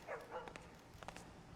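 Dog barking in the stealth video game Thief, a few soft, brief yips and barks spaced irregularly, faint and somewhat distant, with no talk over them.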